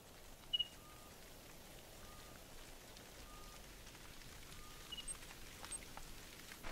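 Steady rain patters at Layton Lake in the video game theHunter: Call of the Wild, a soft, continuous wash of drops with faint intermittent game sounds, no voices over it.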